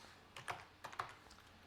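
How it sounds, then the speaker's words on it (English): Soft, quick keystrokes on a computer keyboard as a web address is typed, a few light clustered taps close by in a quiet room. "we go up into the address bar and type"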